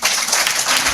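Brief burst of audience applause at a women's club conference and debate, dense steady clapping filling the whole moment.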